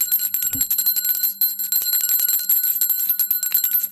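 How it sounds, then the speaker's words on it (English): A small hand bell is rung rapidly and continuously for a roll call, a bright, loud, steady ringing that lasts throughout, close by. "I think my bell might be in my suitcase still, but I have another bell."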